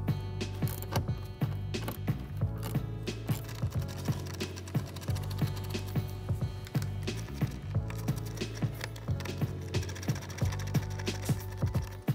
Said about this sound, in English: using your 7mm socket, remove 2 bolts